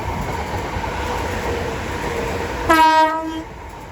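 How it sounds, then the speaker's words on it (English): A pair of Southeastern class 465 electric units on the Hayes to London Charing Cross service at New Cross, on the South Eastern Main Line. A steady rolling rumble is capped near the end by a loud, close horn blast lasting under a second. "soon to pass will be a South Eastern pair of 465s going from Hayes to London Charing Cross"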